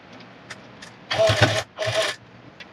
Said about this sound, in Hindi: अब आपको सिलाई चलानी है बिल्कुल कॉर्नर पर।